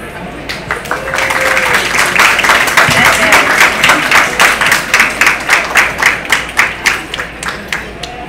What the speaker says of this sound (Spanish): Así que muchas gracias y le aplaudo nuevamente.